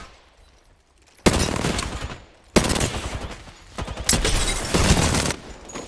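Enemy gunfire in Apex Legends comes in loud, dense automatic bursts, a sudden volley, a pause, then longer sustained rattling with overlapping shots and impacts, close and unbroken by speech.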